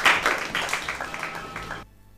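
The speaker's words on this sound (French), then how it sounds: "J'aimerais qu'on applaudisse très fort." A church congregation clapping together, a dense burst of applause with some cheering tones that carries for under two seconds before cutting to near silence.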